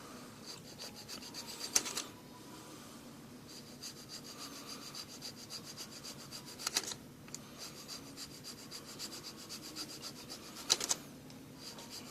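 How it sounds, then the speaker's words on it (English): A round file rasps along the trim line of a car body in steady, repeated close strokes, with a few sharper scrapes along the way, quiet and with no talking. "you just basically follow the trim line around through there with your round file"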